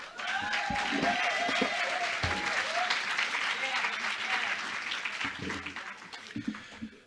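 Audience applause at a city hall candidate forum in Alton, breaking out after a candidate finishes a speech; a dense, steady wash of clapping fills the room while voices murmur and talk over it.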